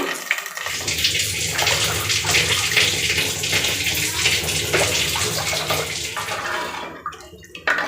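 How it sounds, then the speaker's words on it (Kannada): Water gushes steadily into a pan of Udupi-style kokum rasam, splashing onto the fried tempering and kokum juice; a loud, continuous pour lasting several seconds that eases off near the end, with no talking. "ಇದರ 2ರಷ್ಟು ನೀರು ಸೇರಿಸ್ಬೇಕು"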